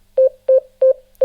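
A Xiegu G90 radio's CW monitor sidetone gives three short, evenly spaced pure beeps, close and clear, with the start of a fourth cut off at the end.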